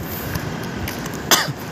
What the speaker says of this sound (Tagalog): Inuubo na.